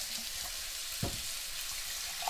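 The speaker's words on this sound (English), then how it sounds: "pour the water." Water from a boiled kettle pours steadily into a pot over a crumbled stock cube with a continuous hissing splash, a short louder gush briefly rising in the middle.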